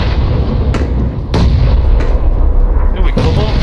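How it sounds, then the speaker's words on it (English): Gunfire in the battle-royale video game PUBG: a few sharp, loud shots crack out at intervals over a dense, constant roar of in-game action, with faint voices underneath. "Why are you still shooting?"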